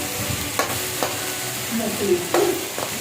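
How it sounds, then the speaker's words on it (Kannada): Okra frying in a pan for okra gojju is stirred with a spoon: a steady soft sizzle broken by a few quick, close scraping strokes. "ನೀಟಾಗಿ ಫ್ರೈ ಮಾಡ್ಕೊಳ್ಳೋಣ"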